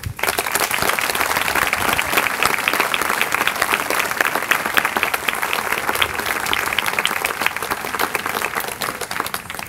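Sustained applause from a school commencement audience, dense steady clapping from a large crowd held at an even level throughout, with no speech over it.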